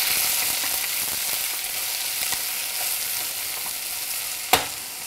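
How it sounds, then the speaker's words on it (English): Onions fry in a pan for Indian home cooking, giving a constant, moderate sizzle up close, broken once near the end by a sharp clack of a utensil. "And while the onions are cooking there,"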